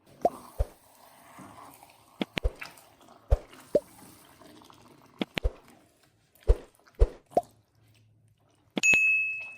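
Roasted dry fruits drop into semolina halwa in a pan, making scattered sharp clinks and soft wet plops at an irregular pace, close and moderately loud, with a brief electronic tone at the end.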